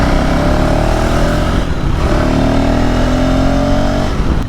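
Upgraded 398cc single-cylinder engine of a 2025 KTM 390 Adventure S motorcycle, loud and close, revving hard under acceleration with rising engine pitch, a brief dip between gear changes, then climbing again.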